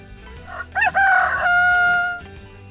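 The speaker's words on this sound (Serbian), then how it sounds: "Petao." A rooster crows once, a loud, close, rising-and-holding cock-a-doodle-doo that stands alone over quiet farmyard background.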